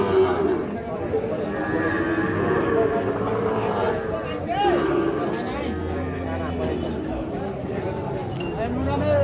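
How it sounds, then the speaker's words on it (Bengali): Young bull calves moo repeatedly at a crowded cattle market, their drawn-out calls rising over a constant murmur of people talking and livestock bustle. "এগুলো সবগুলো কিন্তু ষাঁড় বাচ্চা"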